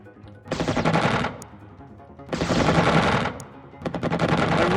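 Loud bursts of automatic gunfire in Xenonauts air combat: three long, dense rattling volleys in quick succession, separated by short gaps, with no voices.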